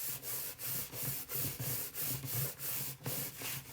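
Paper freshly glued and folded closed for a handmade card pouch is rubbed firmly by hand, giving about eight close, rhythmic swishing strokes in steady succession.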